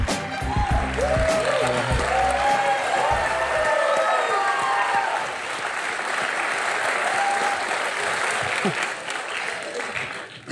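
A studio audience at a television talk show gives a long, loud burst of applause welcoming a cricketer guest, with scattered cheers and whoops, and voices talking over the clapping as it continues for several seconds.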